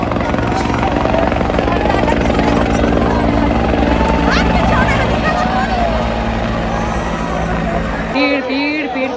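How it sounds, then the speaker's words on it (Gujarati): A helicopter drones loudly overhead, its steady rotor rumble dominating, while it showers flowers onto a dense crowd at a Maha Kumbh bathing ghat by the river confluence; voices and crowd noise mix in underneath. "હેલિકોપ્ટર માંથી ફૂલ વરસી રહ્યા છે"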